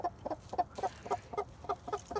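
A Mohawk chicken clucks in a quick, steady series of short, close calls, handled up close with no talking.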